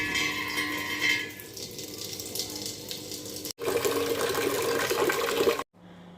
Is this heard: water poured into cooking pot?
yes